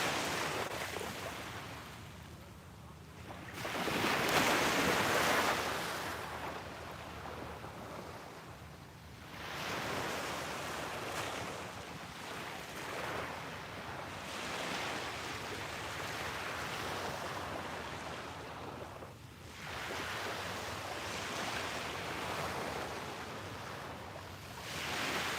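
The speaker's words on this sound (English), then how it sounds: "soak in the colors and the sounds of the waves" Ocean waves roll in and wash against the shore beside a scenic viewpoint, a steady rushing surf that swells and recedes in long surges every few seconds, with no talking.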